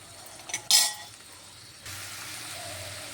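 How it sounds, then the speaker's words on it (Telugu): A spoon stirs salt into broad beans frying in oil in a pan: a quick scrape and clink against the pot, then a soft, steady sizzle of the beans cooking alone. "సాల్ట్ వేసుకొని కలపాలి ఒక ఫైవ్ మినిట్స్ ఇలాగే ఆయిల్లో ఉడకనివ్వాలి"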